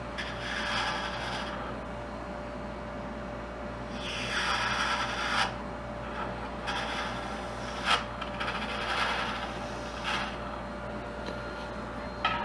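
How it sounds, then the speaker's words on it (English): Woodturning gouges are sharpened on a grinder, producing a steady hum beneath repeated bursts of close, hissing metal-on-abrasive grinding that rise and fall over several seconds. "Let's take a moment to sharpen some tools."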